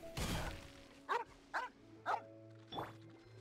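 Dogs barking in the video game Genshin Impact: several short, sharp barks at a steady spacing, fairly close, over a low, steady game background hum.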